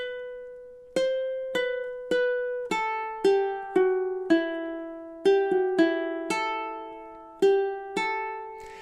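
On a guitar, God Rest Ye Merry Gentlemen is plucked in campanella style, a slow melody of single notes that ring into one another, each clearly struck and left to decay, close and quiet, with no talk.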